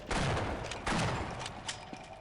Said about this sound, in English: Try using the shotgun on it